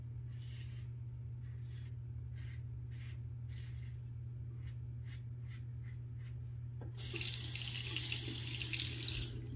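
Tap water streams steadily over a Henson aluminum razor being rinsed, gushing in loud and close after a stretch of quiet with faint scraping clicks.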